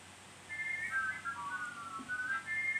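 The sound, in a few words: Thomas the Tank Engine toy train's wonky whistle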